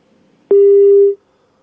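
A single short telephone tone after a call disconnects, one loud, clean steady beep lasting about half a second, alone in near silence.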